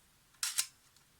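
Shutter of a Zorki 1 rangefinder camera fires once at 1/30 second during a clean, lube and adjust, with a short sharp metallic clack and a quick second click. It sounds close and is heard alone in a quiet room.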